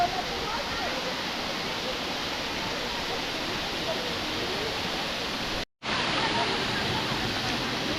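A waterfall in Monterrey, Mexico roars as a dense, steady wash of falling water, loud and close, with one brief dropout partway through.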